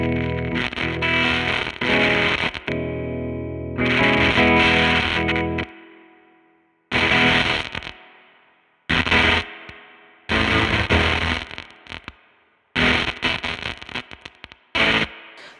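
A faulty Jazzmaster electric guitar, played loud and distorted in crashing bursts of chords that ring out and decay, separated by brief silences, with no talking.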